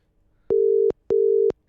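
Outgoing phone call ringback: two steady tone bursts of about 0.4 seconds each, separated by a short gap, clear and isolated with no talking.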